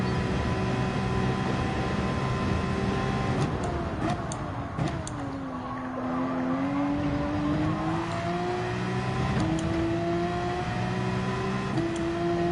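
A Porsche race car engine in Gran Turismo 7 drones steadily at high revs, its pitch sliding and climbing through gear changes, heard alone and loud throughout.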